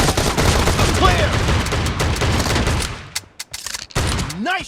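Shotgun gunfire from the battle royale mobile game BGMI in a team deathmatch: loud, dense rapid blasts that thin out into scattered single shots and short gaps, with swooping game effects near the end.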